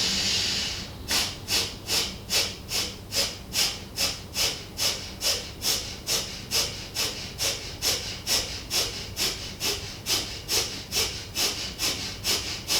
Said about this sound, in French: c'est de prendre une profonde inspiration et d'expirer par à-coups